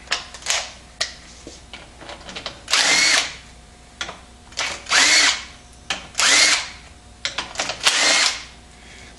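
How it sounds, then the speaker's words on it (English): Electric wrench spinning out steering gear bolts on a 1953–1962 Corvette steering box, 1/2-inch size: four loud, close whirring bursts of a second or so each, separated by short pauses and small clicks, with no talking. "I have here an electric wrench, which makes it very fast and easy."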